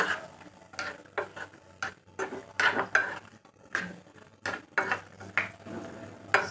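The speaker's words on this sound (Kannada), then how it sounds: "ಗೋಡಂಬಿ ಮತ್ತೆ ಬಾದಾಮಿನ ಸ್ವಲ್ಪ ಗೋಲ್ಡನ್ ಕಲರ್ ಬರೋವರೆಗೂ ಮಾತ್ರ ಇದನ್ನ ತುಪ್ಪದಲ್ಲಿ ಫ್ರೈ ಮಾಡ್ಕೊಳ್ಳಿ" A metal spoon clinks and scrapes against a pan in quick irregular taps while cashews and almonds fry in ghee for carrot halwa, close and fairly quiet.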